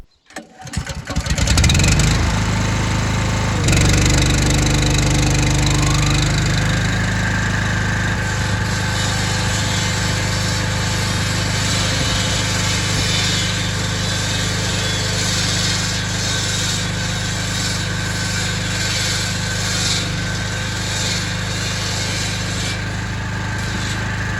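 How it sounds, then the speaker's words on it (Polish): An Aries EAT7000 5.6 kW generator starts up and settles into a steady, loud running drone, with a higher whining saw tone joining partway as a load comes on. "dźwięk piły troszeczkę zagłuszał pracę agregatu"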